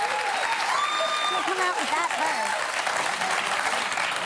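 Studio audience applause on a live morning talk show as guest Matt Damon comes out, a dense steady roar of clapping sustained throughout, with a host's voice talking over it.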